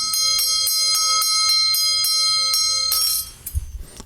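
Small bell with a small lead-weight clapper on a wire, rung in rapid repeated strikes with a bright ringing tone, close and clear, then the strikes stop and the ring decays amid handling noise.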